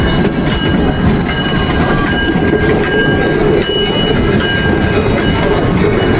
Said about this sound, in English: This little train's been chugging around forwards backwards.